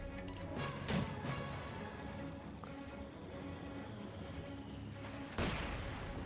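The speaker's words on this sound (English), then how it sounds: "They're getting into a little bit of a mortar war" Mortar shells land in a Company of Heroes 2 battle, with a couple of heavy blasts standing out over a steady rumble of distant combat, small-arms fire and game noise.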